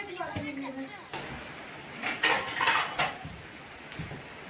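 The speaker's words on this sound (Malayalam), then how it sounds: "ഇവിടെ ക്യാരറ്റ് അരിയുന്നതാണ് കേട്ടോ" Carrots being chopped with a knife in a home kitchen: a few sparse, irregular knocks and scrapes of the blade, moderately close, mixed with clattering kitchenware while people talk nearby.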